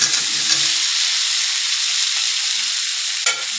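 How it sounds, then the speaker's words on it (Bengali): Soybean chunks going into a hot pan for a breakfast chowmein, loud steady sizzling and frying that holds throughout, with a brief knock of the spoon near the end; no speech. "চলো সয়াবিনটা দিয়ে দিচ্ছি।"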